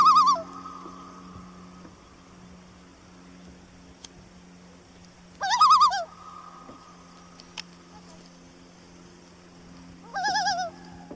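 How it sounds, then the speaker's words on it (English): A common loon on a Minnesota lake gives three loud, mournful wailing calls, each rising and wavering before easing into a long held tone, spaced several seconds apart with quiet stillness between. "Loons have a distinct, mournful call."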